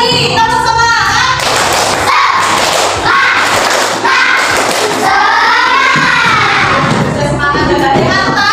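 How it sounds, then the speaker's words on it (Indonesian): A class performs the 'tepuk semangat' clapping chant: a loud group of students claps in rhythmic bursts and chants together, with patterned hand thuds running through the stretch. "Tepuk semangat."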